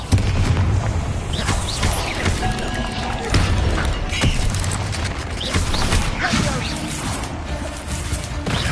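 Confringo blasting spells and other combat magic in a Hogwarts video game, a loud busy run of booming impacts, crashes and whooshes over ongoing game noise, with heavy hits recurring every second or two.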